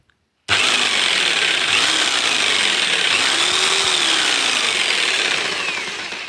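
A Texas TA-01-580 electric jigsaw runs at speed setting six, starting abruptly after a brief silence into a loud, steady buzzing motor whine that holds for about six seconds, close up with no talking.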